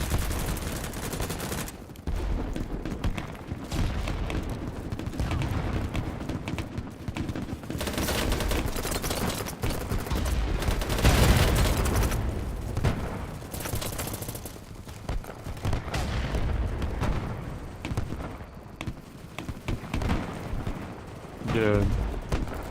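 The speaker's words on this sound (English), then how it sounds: "Those are friendly shooting at me." Sustained bursts of video-game gunfire from friendly players ring out loudly over about twenty seconds, dense rattling volleys rising and falling with brief lulls, alone without speech.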